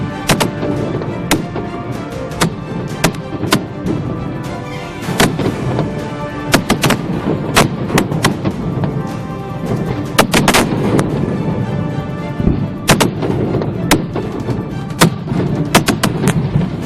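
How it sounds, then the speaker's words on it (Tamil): A Diwali fireworks display in Mumbai brings a dense, continuous run of sharp bangs and crackling pops, loud and irregular, with many overlapping reports and no talk. "இரவை பகலாக்கிய வான வேடிக்கை நிகழ்வு"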